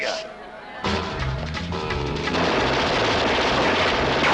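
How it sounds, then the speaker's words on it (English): Rapid automatic gunfire from a banjo gun in a 1970s animated film, a burst of dense shots building louder over a few seconds, with film sound and voices mixed underneath. "attempts to shoot Rabbit with a banjo gun"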